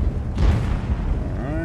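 A T-54 tank cannon fires once in World of Tanks, a loud booming blast with a long rumbling tail, followed by a ringing tone near the end of the shot.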